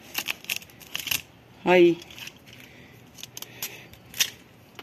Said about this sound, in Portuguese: Eu vou logo cortar bem aqui.